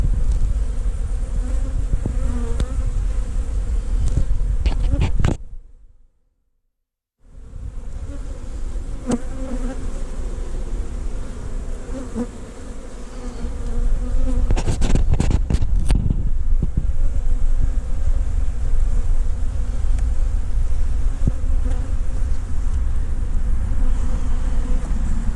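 A bee buzzing close by during swarm colony work, a steady loud drone that cuts out briefly and then resumes, with wind noise on the microphone and no talking.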